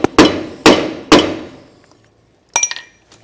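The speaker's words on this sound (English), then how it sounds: "I've got a drive tool so that I can hammer it in to our hub assembly" Three loud, evenly spaced hammer strikes on a drive tool seating a dust cap into a trailer hub ring out and decay, followed by a lighter metallic clink and rattle.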